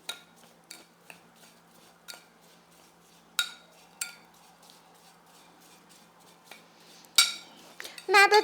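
Strawberries coated in sugar are stirred in a dish, giving soft scraping with scattered sharp clinks of a utensil against the dish; a burst of quicker clinking comes near the end.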